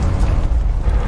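A deep, rumbling explosion from the video game Coldside, loud and heavy with low booming energy that lingers throughout.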